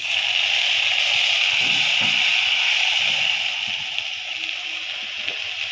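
Continuous hissing rush of water poured into a hot cooking pan, steady and close, with faint gurgles and sloshing underneath.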